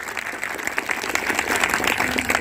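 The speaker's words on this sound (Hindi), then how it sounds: "एक बार उनके लिए जोरदार तालियां बजाइए" An audience at a motivational speech applauds loudly, with dense, sustained clapping throughout.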